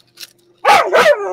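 A dog barks twice on a boat moored in a creek, two loud close barks after a faint whimper, with a brief pause between them.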